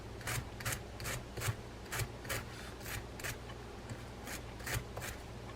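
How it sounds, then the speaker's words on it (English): A hard brush scrubs the gear teeth of a vintage Penn 249 direct-drive fishing reel during servicing, giving quick, evenly spaced scratchy strokes, about a dozen in a row, close and fairly quiet with no speech. "And pull through with a hard brush."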